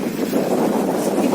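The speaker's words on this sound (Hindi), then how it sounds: "इतनी तेज हवा चल रही है" Strong, cold wind blowing steadily during a night walk outdoors, a continuous close rushing roar buffeting the microphone throughout with no voices.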